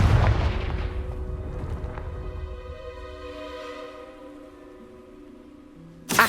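A Confringo fire spell bursts in Hogwarts Legacy, a loud boom that decays into a ringing, reverberant tail with tonal hums, then a sharp new impact at the very end.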